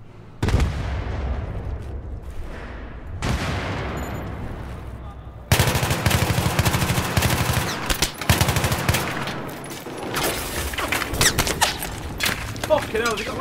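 Machine gun fire in Battlefield 3 during a mall firefight: sharp bursts of rapid automatic shots and loud impacts, escalating into sustained heavy fire with rumbling echoes, and voices shouting amid the battle.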